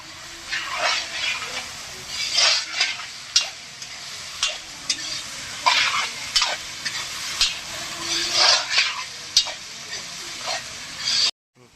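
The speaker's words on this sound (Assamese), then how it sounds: "এতিয়া মই ছাগলৰ মাংসখিনি বহুৱাই দিলোঁ" Goat meat frying in a pan as it is stirred, a steady sizzle broken by repeated scraping clatters throughout, fairly close and loud.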